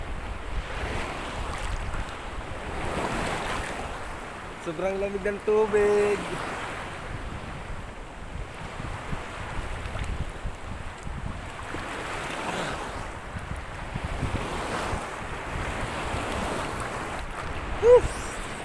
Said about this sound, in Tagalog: Grabe, lakas ang alon